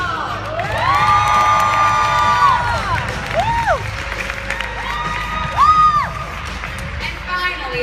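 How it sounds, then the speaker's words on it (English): A convention crowd at a New York Comic Con panel cheers and whoops loudly for nearly eight seconds, shrill individual shouts rising above a dense, steady roar of applause, with a few voices calling out. "How about a round of applause for Luke Mitchell."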